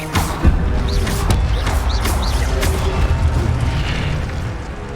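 An Incendio fire spell blast in Hogwarts Legacy, a heavy boom with crackling, rumbling fire and impact sounds, loud and close.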